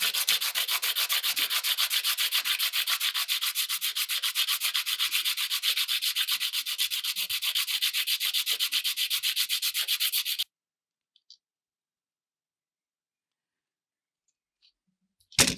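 Steady, continuous rasping of a sanding stick worked back and forth across a guitar nut, close and loud for about ten seconds before stopping abruptly, followed by a few faint clicks and near silence.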